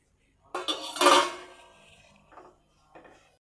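Roasted semolina being added to a pot of thickening sweet dessert mixture and stirred, a loud scraping clatter of a spoon against the pot followed by two softer scrapes.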